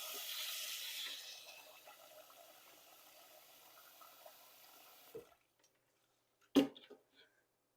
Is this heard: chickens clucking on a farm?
no